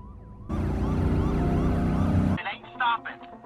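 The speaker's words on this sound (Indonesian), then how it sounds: "Otomatis sirine langsung dinyalakan" An emergency siren blares loudly, wailing in sweeping tones from about half a second in, then cuts off, leaving a few short electronic chirps.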